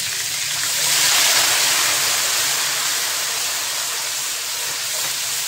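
Ginger garlic paste with a little water fries in hot oil with cumin as the base of a spinach and chicken curry, a loud, steady, close sizzle that swells slightly and then holds, with no talk.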